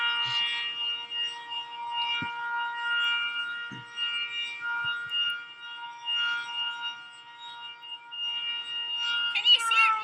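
Tornado warning siren sounding during a test, a sustained wavering wail heard from a distance for the whole stretch, with a brief voice near the end.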